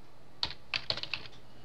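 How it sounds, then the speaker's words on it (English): A handful of quick keystrokes on a computer keyboard, soft clicks in an irregular burst against a quiet background. "we're gonna type"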